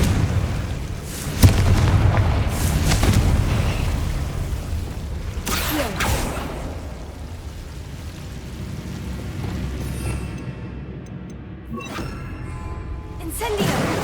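Confringo explosive spell cast in Hogwarts Legacy, sharp bursts and booms at irregular intervals over a busy bed of combat noise, with a loud blast early and several more impacts scattered through the rest.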